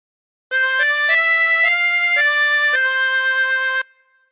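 A chromatic harmonica plays a phrase of the Star Spangled Banner as a smooth run of sustained, clear reed notes that change pitch in steps, solo and close, ending cleanly after about three seconds.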